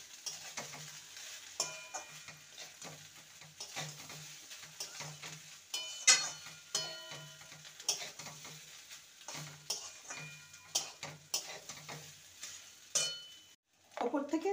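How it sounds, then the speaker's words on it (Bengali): Egg bhurji being stirred into leftover fried rice in a pot, with repeated rhythmic scraping strokes of a spoon over a soft frying sizzle, a few light clinks, and a brief louder rustle near the end. "এবার ভেজে রাখা ডিমের ভুর্জিটা দিয়ে দেবো। ভালো করে মিশিয়ে নেব।"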